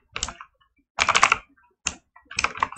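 Quick clusters of close, crisp clicks from a computer keyboard typing in Roblox Studio, coming in four short bursts separated by brief silences.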